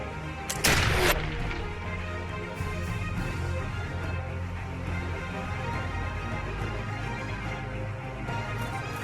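A cannon blast from Expeditions: Conquistador gameplay, one loud boom near the start that then rolls into a sustained low rumble and background din with no voices.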